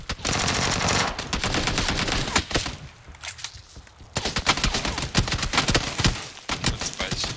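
Automatic rifle fire in PUBG, Beryl gun: loud rapid bursts of shots, a brief quieter gap, then more sustained volleys, with voices speaking over the action.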